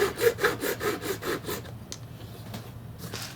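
A file rasps a bevel onto the fret ends of a cheap thrift-store bass, the hard fret wire giving a rhythmic series of about eight close strokes that then thin out into a few quieter scrapes.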